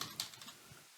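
Rapid typing on a brand-new computer keyboard, a quick burst of close, crisp key clicks with a few louder strikes, trailing off into quiet.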